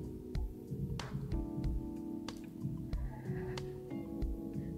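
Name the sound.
neighbors' loud music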